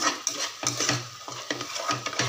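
Masala paste for chicken biryani being stirred and sautéed in oil, with a spoon scraping the pan in a quick rhythm of repeated strokes over a soft, steady sizzle, close and clear with no talking.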